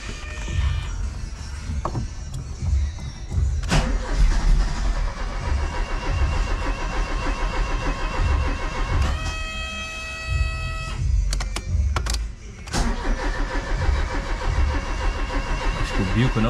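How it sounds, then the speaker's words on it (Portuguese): A 1994 Chevrolet Monza GLS, stored for 19 years, cranks and fires up, its engine catching and running rough with repeated starter whirs and sharp mechanical clicks, close and loud without speech. "Então, pessoal, o motor funcionou."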